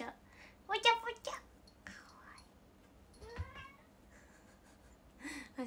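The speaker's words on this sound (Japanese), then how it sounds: "そう、返事するんですよ、うちの猫。" A pet cat meows in reply several times, with clear close calls between soft whispered talk.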